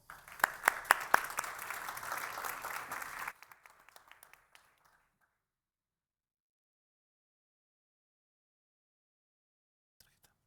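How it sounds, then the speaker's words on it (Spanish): An audience at a conference session bursts into applause for three seconds of dense clapping, then it thins out to a few scattered claps and fades into near silence. "Un aplauso."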